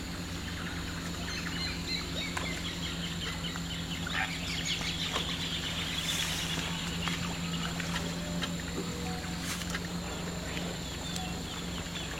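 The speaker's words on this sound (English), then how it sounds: "amazing the different birds you hear when you're sitting at idle here with no engine on" Various birds sing and chirp outdoors at a fair distance, layered over a steady low hum; the calls are scattered, faint and overlapping throughout, with no voices.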